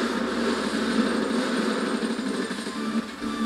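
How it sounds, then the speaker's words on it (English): A power drill runs in the Payday 2 heist game, a steady high-pitched motor whine with a buzzing engine-like tone that holds at constant loudness throughout. "Oh god, this dude's got a drill."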